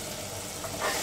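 Ginger garlic paste hits onions already browned over high flame in a pan for a black-eyed pea curry, giving a steady close sizzle and frying hiss that swells slightly near the end, with no talk.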